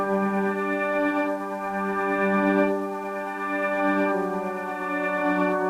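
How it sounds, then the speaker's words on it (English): A noisy piano loop in Ableton holds sustained chords with a hiss of noise underneath, changing chord roughly every second and a half at a steady, moderate level, with no talking. "So the noisy piano sounds like this now."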